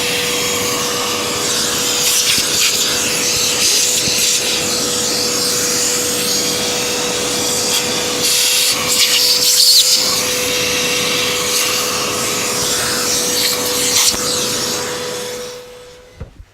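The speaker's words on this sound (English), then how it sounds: "Now I got to vacuum up the mess I made" A vacuum cleaner runs loud and steady with a constant whine, rattling as it sucks up drilled material from inside a bass speaker, then shuts off and spins down at the end.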